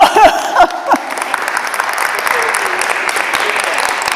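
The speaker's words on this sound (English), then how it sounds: "I'd like to give you an applause." Audience at a garden club event breaks into applause after a voice speaks briefly, then steady clapping carries on, close and fairly loud.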